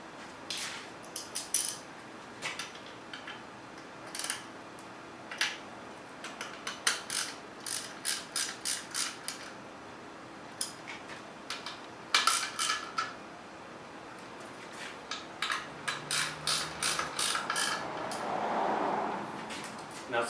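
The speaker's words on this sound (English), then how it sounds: "now I'm going to switch to my ratchet so I can tighten them up by hand." A hand ratchet clicks in repeated bursts of rapid pawl ticks while tightening bolts during a Tesla motor swap, loud and close, with short pauses between strokes and a faint metallic clatter near the end.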